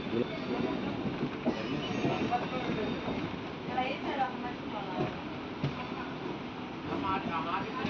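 A MEMU local train running from Vijayawada to Guntur rumbles steadily along the track, a continuous loud rolling noise with faint rhythmic clatter, while someone talks over it.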